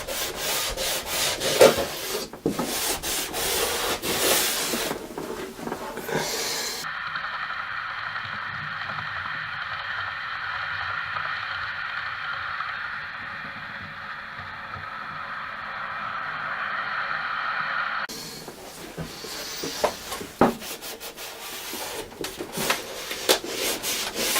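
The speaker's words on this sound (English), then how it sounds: "I just give it a clean with my track rubber, just to clean off any excess glue that could be sitting on top of the rails." A track rubber scrubs glue residue off model railway rails with close, gritty back-and-forth rubbing, then a quieter smoother stretch, then brisk scrubbing again.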